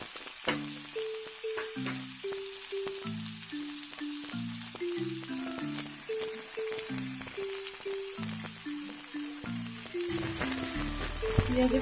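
Onion sizzles steadily in a hot pan, a constant frying hiss running beneath a soft melodic instrumental tune.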